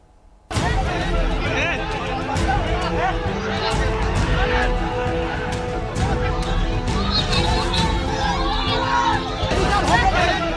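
A large, agitated crowd of villagers in Bihar, India, shouting and clamoring as they chase a state government minister, a loud, dense babble of many voices that stays close and continuous throughout.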